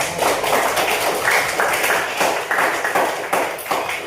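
A crowd claps steadily, many hands applauding together for several seconds without pause.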